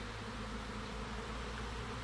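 Steady, dense buzzing of many honeybees at the hive, continuous and close, with no voices.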